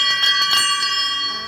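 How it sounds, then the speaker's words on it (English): A hotel service bell rung by staff, a bright ringing tone with a couple of quick strikes that leave long sustained overtones decaying over a second or so. "Every time I come here, I will be ringing the bell for your privacy."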